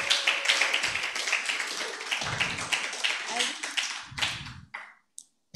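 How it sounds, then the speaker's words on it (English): Audience applause at an event honoring guest speakers, dense steady clapping from many hands for about four seconds, then thinning out and stopping, with a voice briefly audible underneath. "Now, let's give our guest speakers a bigger hand of applause."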